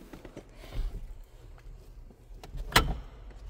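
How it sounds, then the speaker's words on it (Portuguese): A VW Fusca Itamar door being opened up close, giving a sharp metallic click-thump of the latch near the end, after softer handling rustles. "vou abrir a porta desse lado para facilitar"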